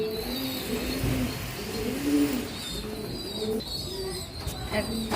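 A silky lacquer pigeon coos in soft repeated low phrases close by, with faint chirps and a voice talking intermittently in the background.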